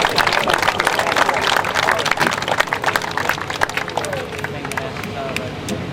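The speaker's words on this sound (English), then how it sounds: "I think they deserve a round of applause" Audience applause at a classic and supercar show at Sherborne Castle, a steady wash of clapping with crowd murmur throughout, fairly loud and close.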